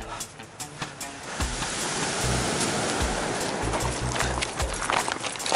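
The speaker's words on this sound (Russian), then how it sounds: "дам послушать шум моря" Sea waves washing over a pebble beach in Italy near Genoa, a steady broad rush of surf with rising and falling swells, close and fairly loud, wind noise and no speech.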